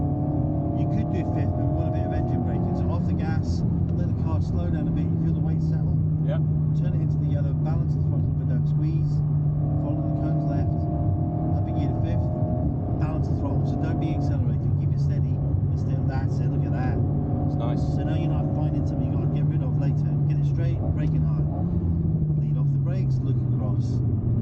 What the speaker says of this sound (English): we want a bit of engine braking, so off the gas, let the car slow down a bit